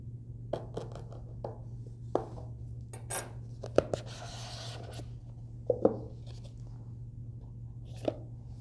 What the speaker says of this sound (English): let's unbox it and see what's inside